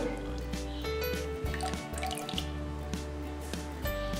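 Concentrated passion fruit juice pours into a blender base, a close, quiet trickle and splash with scattered drips against a low steady hum.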